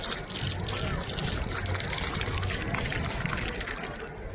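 Continuous splashing, gurgling water pouring steadily into an emptied bottle at the Sangam ghat during the Maha Kumbh Mela, close and fairly loud against a noisy background.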